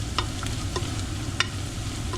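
Seven spices get stirred into butter chicken in a hot pan: a steady sizzle under a few sharp scrapes and taps of the utensil against the pan, close and fairly loud.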